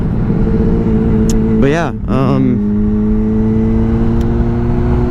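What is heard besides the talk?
600RR sport motorcycle engine revving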